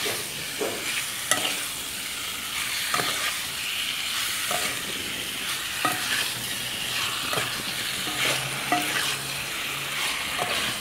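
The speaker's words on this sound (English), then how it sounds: "Once it starts to bubble, you could actually throw in your mango and mix it up." Mango pieces stirred into bubbling curry for mango achar, a continuous hissing sizzle with occasional soft stirring knocks, steady and close, no speech.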